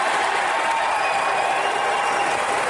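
A GOP debate audience applauds in a steady, dense wash of clapping that holds at an even level from start to finish, with no voices standing out.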